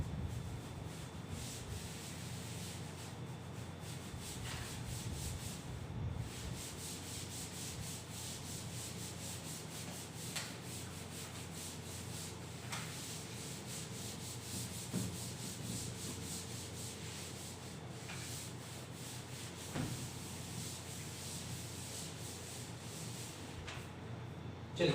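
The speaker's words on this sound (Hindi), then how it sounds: "चलिए इसको रब कर दूं मैं" A duster or eraser rubbing writing off a classroom board during a maths lesson, with long, steady scrubbing strokes that continue for about twenty-five seconds at moderate loudness and no voices.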